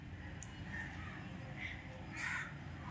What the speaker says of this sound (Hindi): देखो देखो कौन खा रहा है, चिड़िया चिड़िया खा रहा है बिस्कुट तुम्हारा